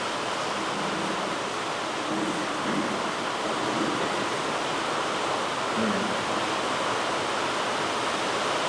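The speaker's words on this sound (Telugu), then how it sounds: "దాని మీద నీళ్ళు పడుతుంది" Water pours steadily onto a surface near a microphone, a continuous broadband splashing rush that holds at an even level throughout with no pauses.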